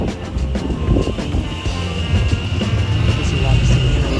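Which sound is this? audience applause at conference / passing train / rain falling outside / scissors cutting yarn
passing train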